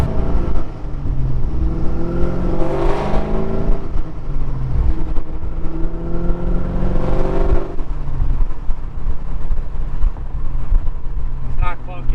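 A BMW E36 with an LS V8 engine swap drives and accelerates, its engine note rising and falling in two long revving pulls over steady road and wind noise, heard from inside the car while people talk.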